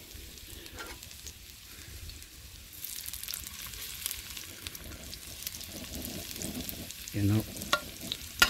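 Onion and garlic browning in oil for a Filipino blue crab and vegetable coconut-milk stew, giving a steady soft sizzle with occasional stirring scrapes and a brief voice near the end.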